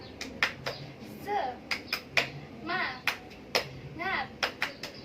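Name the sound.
class doing the "tepuk semangat" clapping chant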